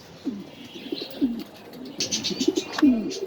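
Pigeons coo in low, throaty bursts inside a pigeon farm in Mirpur, Dhaka, several birds calling near one another with light chirps and fluttering between the coos.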